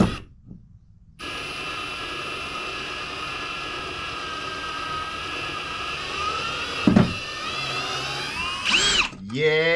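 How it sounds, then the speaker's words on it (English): A Ryobi cordless drill runs in one long, steady, close whine as it turns a part on a Motorguide Xi3 trolling motor, with a couple of brief knocks and a rising pitch near the end. "I might be able to use a drill now."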